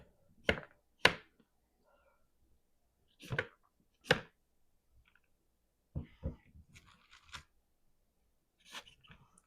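A knife chopping regular-sized carrots on a cutting board, crisp separate chops in small clusters with quiet pauses between, close and clear.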